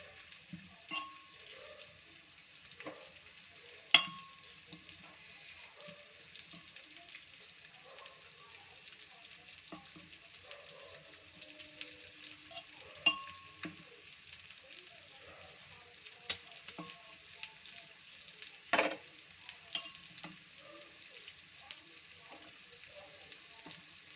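Chicken pieces fry in a pan for lemon garlic chicken, a soft steady sizzle running throughout with a few sharp clicks and pops, fairly quiet and with no one speaking.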